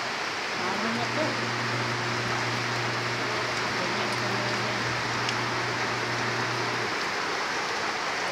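Heavy rain pours down outside a house in the Philippines, a loud unbroken roar of hiss, with a low steady hum running beneath it for several seconds and a voice briefly present.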